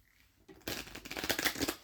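Past life cards shuffled by hand: a quiet start, then a dense, close riffling flutter of card edges that builds and runs continuously for over a second.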